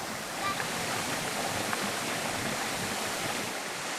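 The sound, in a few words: waterfall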